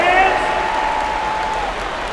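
Arena crowd noise from a simulated NBA 2K22 playoff basketball game between the Phoenix Suns and Dallas Mavericks, a steady wash of applause and cheering with a brief announcer-like call at the start, continuous and moderately loud.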